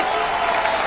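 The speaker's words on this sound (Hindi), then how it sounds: "यार एक बार ताली हाथ उठा के बजा लो यार" An audience at a Holi poetry recital claps together in a dense, continuous burst of applause that fills the whole short moment at steady loudness.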